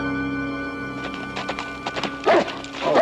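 A horse clip-clopping and whinnying outdoors in a Western film scene, hoof beats close and fairly loud over a sustained music bed, with a short snort or neigh near the end.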